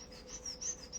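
A person imitates a bird call with a quick run of high, thin whistled chirps, repeated several times over a steady hiss of background noise.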